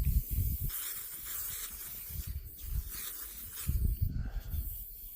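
Aerosol spray hisses onto a drawing in several short, close bursts separated by pauses, with light rubbing and handling noises between them.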